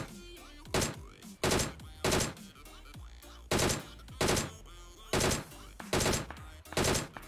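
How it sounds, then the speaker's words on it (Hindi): Gunfire in the video game PUBG Mobile, heard as about eight short, sharp bursts of rapid automatic shots that crack loudly in an irregular rhythm, with quieter gaps of game ambience between them. "अब यहाँ पे मैं जैसे ही लूट उठ करके भागा, तो वैसे ही मुझे गोली पड़ना चालू हो गई थी"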